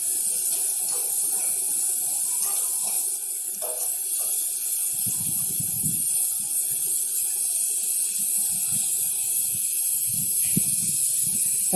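Chopped tomatoes hiss and sizzle in a hot pan of vegetable pulao, a steady spray-like frying noise with low bubbling bursts midway and again near the end, close and continuous with no talking.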